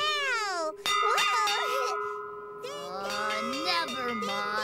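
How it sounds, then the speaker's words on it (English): A hand bell rings out with bright metallic clangs, several quick strikes over a sustained ringing tone, heard alongside a children's TV show's music and character voices. "I'm ringing this bell!"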